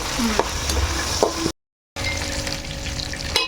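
Mint and coriander with onions and green chillies sizzle in hot oil for chicken dum biryani, a steady close frying crackle broken by a brief full silence midway, with faint stirring knocks.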